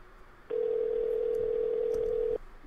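A steady electronic phone tone from the Sally Face video game rings out loud and unbroken for about two seconds, starting abruptly and cutting off just as sharply over a faint room hiss.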